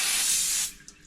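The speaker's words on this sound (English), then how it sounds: "I'm just going to give that a little spray off quickly just to stop it going rusty." A short, close burst of spray hissing onto a cleaned engine crankshaft from a Fiesta ST 2.0 Duratec rebuild, strong at first then cutting off abruptly to near quiet.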